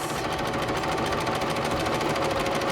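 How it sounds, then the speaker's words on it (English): A Baby Lock Zest sewing machine stitches rows across a quilt, producing a continuous fast mechanical whirring and needle chatter at an even pace, close up and without speech. "I'm going to continue to stitch all the way down to the end"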